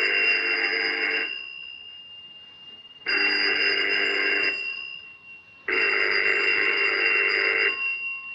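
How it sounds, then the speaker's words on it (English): A telephone bell rings loudly in three long bursts, each lasting a second or two, separated by short silent gaps. "It's been ringing for 10 minutes."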